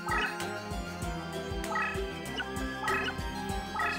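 A bird monster's cry in the Yu-Gi-Oh! The Duelists of the Roses video game: a rhythmic, gobbling, turkey-like call repeating in quick pulses over a looping synthetic game backdrop.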